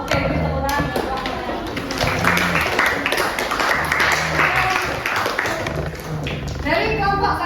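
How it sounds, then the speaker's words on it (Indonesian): A group in a coaching-based supervision session claps in a sustained round of applause, loud and close, with voices talking over the clapping throughout. "beri tepuk tangan"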